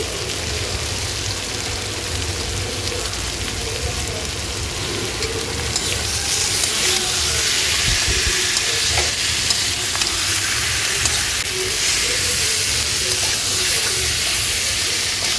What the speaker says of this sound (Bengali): জিরে গুঁড়ো ধনে গুঁড়ো আর দিয়ে দিলাম লঙ্কা গুঁড়ো সব দিয়ে আমি সবজিটাকে ভালো করে কষিয়ে নিলাম